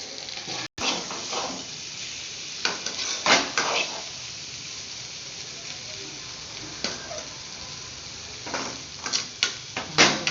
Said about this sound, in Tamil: தண்ணியை நல்லா வடிச்சுட்டு பொரியல் தாளிக்கிறேன்